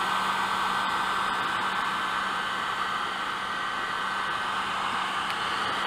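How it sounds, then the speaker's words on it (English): A heat gun blowing hot air to loosen decals on a Cub Cadet dozer, giving a steady, close, unbroken whirring hiss that runs throughout with no talking. "If you have trouble getting these decals off with a heat gun"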